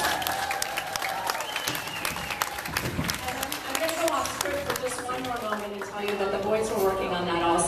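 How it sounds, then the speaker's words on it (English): Audience applause for boys in a Ukrainian dance ensemble at a show, a dense sustained wash of clapping with crowd noise and cheering, while talk and music carry on over it throughout. "clap one more time for the boys"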